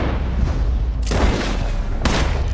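Gunshots in Red Dead Redemption 2, two sharp loud bangs about a second apart, each trailing into a short echoing tail over a low rumbling background.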